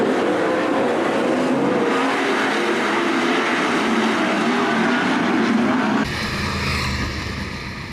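Race cars roar around the dirt track at Attica Raceway Park, a loud continuous engine drone that stays steady and then shifts in tone near the end, with no talk.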